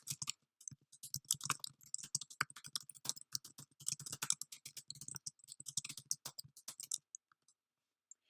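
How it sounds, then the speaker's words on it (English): A computer keyboard typing out a title gives a quiet, close run of rapid key clicks for about seven seconds, then stops, with a few isolated clicks after. "and then I'm going to type in my title for the broadcast."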